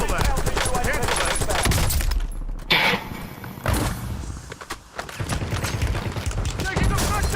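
Heavy automatic gunfire from the video game Warzone, dense bursts and overlapping shots filling most of the stretch with a couple of brief lulls, loud and close, mixed with game voices.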